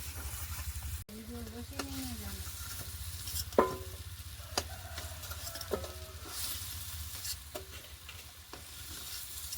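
Chicken pieces fry for biryani in a large pot, a faint low sizzle with scattered clinks and scrapes of a ladle, while people talk nearby over it.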